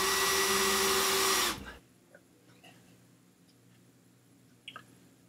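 A power drill whirs loudly for about a second and a half while boring pilot holes to mount a Titus soft-close device, then cuts off, leaving quiet room tone with a few faint clicks and taps.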